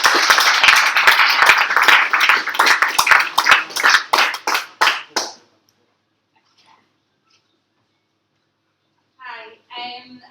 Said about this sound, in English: A round of applause please for Lyndsie.